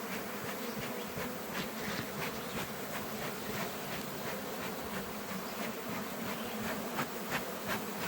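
A honey bee swarm being captured in May gives off a dense, steady, close buzz from countless wings. It holds an even, unbroken drone throughout with no voices.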